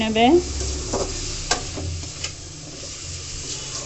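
Ginger-garlic paste is stirred into frying cabbage and potatoes in a pan, a soft steady sizzle with a few scattered spatula scrapes, close and fairly quiet, with a brief voice at the start.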